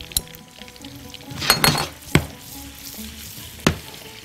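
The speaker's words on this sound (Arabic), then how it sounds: "انزل بزهر الارنبيط اهو مع زيت الزيتون" Cauliflower florets sizzle in hot olive oil with garlic in a pan. The soft frying hiss runs steadily beneath a few sharp clinks of a utensil against the pan, with no voices.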